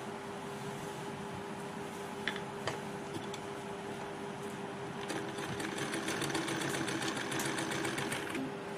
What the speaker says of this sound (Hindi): जहाँ तक हमने ये कट लगाया था वहाँ तक हम इसे सिलेंगे और फिर यहाँ से वापस सिलाई को लेंगे।